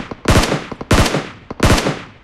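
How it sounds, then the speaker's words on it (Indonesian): Three sharp bursts of rapid automatic gunfire from a PUBG Mobile tournament match, evenly spaced, loud and close, with no talk over them. "Ya, sepertinya menembak sasaran kosong."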